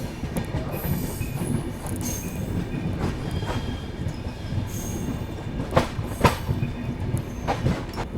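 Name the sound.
Dehradun–Subedarganj Express train arriving at station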